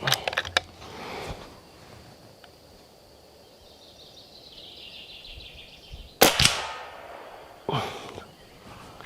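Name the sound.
air rifle pellets hitting a metal frying pan behind target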